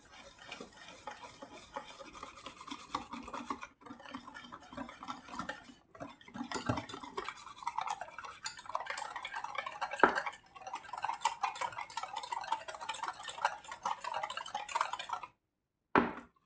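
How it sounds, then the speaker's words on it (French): Milk and dough mixture stirred in a bowl, a steady scraping and swishing that runs nearly continuously with brief pauses, close and clear, with light clinks of utensil against the bowl. "On mélange tout. On mélange le lait."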